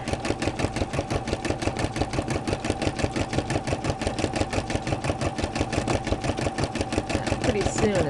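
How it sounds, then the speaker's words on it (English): A Brother SE-400 embroidery machine stitches a satin fill, its needle hammering in a fast, even mechanical rhythm, close and steady throughout. "Okay, so we're partway through the satin fill stitch here."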